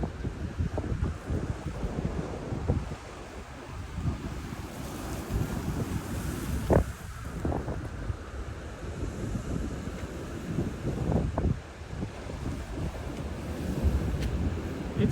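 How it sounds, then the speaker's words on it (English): Powerful ocean waves crash and surge against rocks on a Canary Islands beach, a steady roar of surf with repeated heavier impacts, mixed with strong wind buffeting the microphone, no talking. "Here comes a wave right here."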